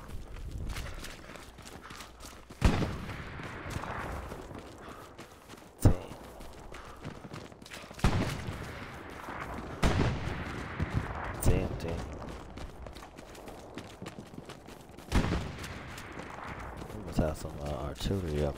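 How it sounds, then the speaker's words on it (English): Tank cannon in Hell Let Loose firing in a few sharp, loud cracks spaced several seconds apart, each ringing out like a lightning strike amid battlefield noise, with a person talking throughout. "It's definitely a tank. That shit sound like a lightning strike."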